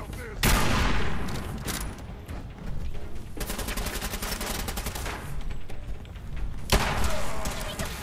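Gunfire rattles through a post-apocalyptic shooter against a super mutant, with sharp single shots and a sustained burst of rapid automatic fire, loud and close, mixed with thuds and occasional talking.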